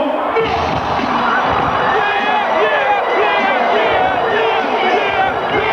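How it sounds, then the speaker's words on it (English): A loud, dense crowd roars and cheers without pause, many voices shouting and yelling together in a continuous wall of noise. "The crowd went nuts."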